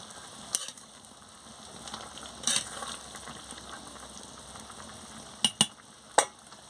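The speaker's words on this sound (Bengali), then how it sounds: "বড়াটা দিয়ে ভালো করে ফুটিয়ে নিচ্ছি" Gravy with soybean and gram-flour fritters simmers in a pot, a faint, steady low bubbling broken by a few sharp clinks and pops, with no voices.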